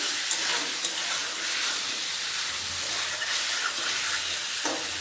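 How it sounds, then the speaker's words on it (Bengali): Chicken pieces sizzle in a hot pan for a Bengali dhaba-style chicken curry, giving a dense, even hiss with occasional faint stirring scrapes and no talking. "চিকেনটা একটু ভেজে নিয়েছি"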